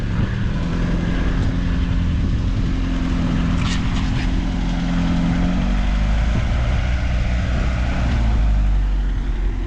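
A Hellcat-swapped Chrysler 300 rolls off a driveway with a loud, steady low engine rumble and broadband roar that holds throughout, close by, with a brief higher whine partway through.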